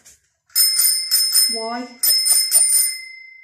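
The small bell on a Cosatto Woosh 2 pushchair is flicked in two quick bursts of several bright metallic rings each, close and clear, with a short spoken word between them.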